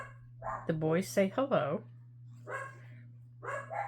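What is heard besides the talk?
dogs barking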